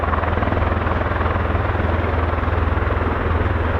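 A KC-135 Stratotanker flies overhead, a steady, loud droning roar with a pulsing low throb that holds evenly throughout, no voices present.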